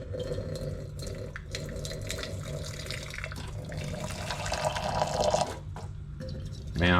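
Hot water is poured in a home kitchen while bacon and chili jam is being made: a steady, rushing splash of liquid with a filling gurgle that rises toward the end, continuous and close.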